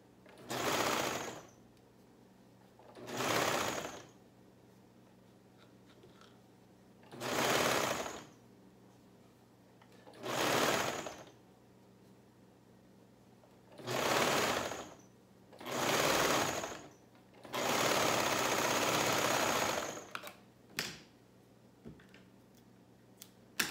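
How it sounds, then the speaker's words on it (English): Close up, a sewing machine stitches three layers of fabric together for a Mandy shirt. It runs in about seven separate whirring bursts with quiet pauses between them, and the last burst runs longest. A few small clicks follow, and nobody speaks. "So we have 3 layers here. We're going to sew them together."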